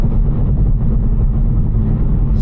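A Mercedes C63 AMG V8 engine and exhaust drone steadily from inside the car while driving, a loud, dense low rumble that holds even throughout without talk.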